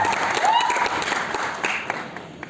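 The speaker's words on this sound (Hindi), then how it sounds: "जोरदार ताली हो जाए।" A crowd applauds at a Bhojpuri music event in a Lucknow hotel, steady clapping with a brief whistle-like tone near the start and scattered noise over it.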